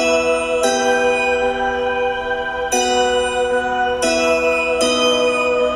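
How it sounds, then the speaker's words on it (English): Synth sine bells and a dulcimer ring out in struck, sustained tones, with new notes at irregular intervals over a soft choir pad layered beneath, all bright, clear and without speech. "I've got a choir layering below the sine bells and dulcimer as well"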